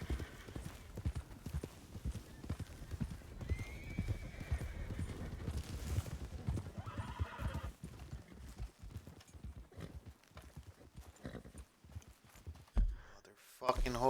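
Horse hooves clip-clopping steadily with a whinny in Red Dead Redemption 2, the gallop rhythm running throughout under a player's voice.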